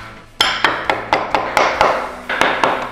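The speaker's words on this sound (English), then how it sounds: "we'll give this a little love tap to get it on there better" A hammer taps a part onto a Cummins engine in a series of about nine sharp metallic strikes in a steady, slightly uneven rhythm, loud and close with no talk.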